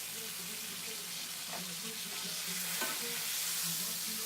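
Cube steak browns in a pan with a steady, broadband sizzle that holds throughout, a few faint utensil knocks rising above it.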